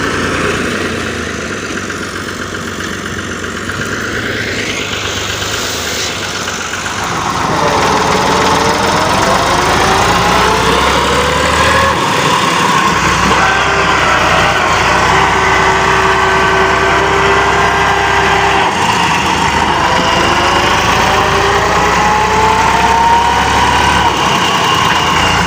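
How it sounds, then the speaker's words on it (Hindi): Tractor engine running steadily while stuck in a plot, with the knocking diesel drone close and loud, then revving higher and holding a strained, louder pitch as it tries to pull free. "अगला ट्रैक्टर वो इसको धक्का लगाते हुए वो भी फंस गया।"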